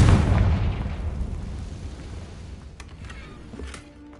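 A Confringo fire spell from Hogwarts Legacy bursts in a loud, booming explosion right at the start, its rumble slowly decaying over several seconds with faint crackles and small game effects trailing at the end.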